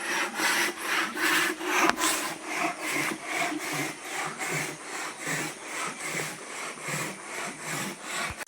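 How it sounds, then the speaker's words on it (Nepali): A hand saw cuts through wood in a steady back-and-forth rhythm, about two rasping strokes per second, close and clear throughout. "आरा लकडी काट्दा यसरी काटिन्छ"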